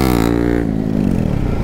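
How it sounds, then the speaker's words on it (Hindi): Motorcycle engine revving hard during a wheelie attempt on a short group ride, a loud steady roar with a dense harmonic whine that falls in pitch as the rider eases off. "ओए देखो व्हीली, ये बंदा व्हीली ट्राई कर रहा"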